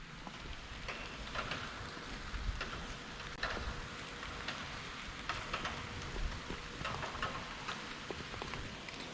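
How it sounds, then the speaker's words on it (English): Steady rain falls outside a window beside a small private garden, a continuous patter with scattered nearer drops ticking on surfaces, moderately quiet and unbroken throughout, with no voices. "it's raining outside"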